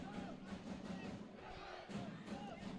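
At a Finn Harps versus Treaty United football match, the crowd rises in a sustained roar and chant as a cross is whipped into the box, heard from a distance as a murmuring swell with muffled talk.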